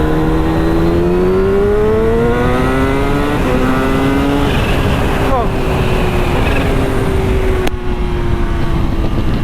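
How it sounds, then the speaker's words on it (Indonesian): A 2022 Kawasaki Ninja H2 pulls hard from third gear, high-revving engine rising in pitch, loud and close, with a brief dip mid-run as it shifts and keeps accelerating. "Nih kita coba bejek lagi ya dari gigi 3 deh."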